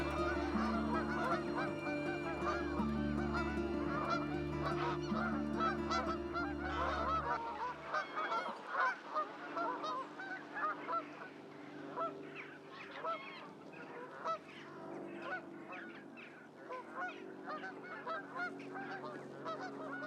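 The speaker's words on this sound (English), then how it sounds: "these geese noisily came off the landfill and squeezed into the last bit of lake" A large flock of geese honking loudly and continuously on a partly frozen lake on a frosty day at Dinton Pastures, calls overlapping in a noisy chorus that thins to scattered honks later on.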